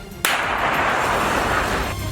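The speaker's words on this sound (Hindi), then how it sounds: "इसके बाद देखते ही देखते टैंक से कई गोले दागे गए।" A Russian tank firing shells in Kharkiv: one sudden loud boom followed by a long roaring, rumbling decay, close and heavy with no voices.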